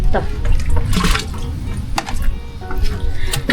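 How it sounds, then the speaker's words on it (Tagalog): Water being scooped and poured by hand in a campsite restroom with no faucet, with splashes, drips and sloshing close by and a voice talking over parts of it. "walang faucet dito sa CR, tayo ay mag-iigib"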